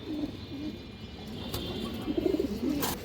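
A female pigeon coos softly in a few low, throaty rolls amid steady background hiss and faint ambient noise, with a couple of brief sharp clicks.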